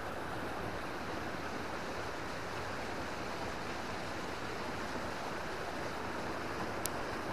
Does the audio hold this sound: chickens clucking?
no